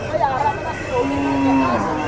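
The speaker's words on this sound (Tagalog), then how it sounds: "Grabe itong kalabaw na to, ang laki oh." A very large carabao (water buffalo) lets out one low, drawn-out moo over a busy background of crowd chatter, sounding fairly close and loud.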